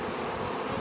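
A honeybee swarm from an artificial split shaken out near a hive box buzzes as a dense, continuous drone, close and steady, filling the whole moment with no voices.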